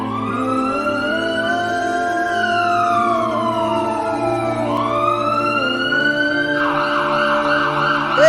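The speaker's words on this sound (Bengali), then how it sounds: "অ্যাম্বুলেন্স এসে গেছে" An ambulance siren wails in long rising and falling sweeps, loud and steady throughout, close by in a village roadside accident scene, shifting to a faster warbling pattern near the end.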